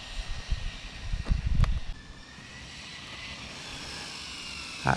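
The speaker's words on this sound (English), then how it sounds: "Let's let it eat. Half, 3/4, 3/4, full throttle." A DeeRc 1217 RC car's electric motor is driven at full throttle, starting with a few low thumps and then settling into a steady, rising high-pitched whine that carries on at moderate loudness.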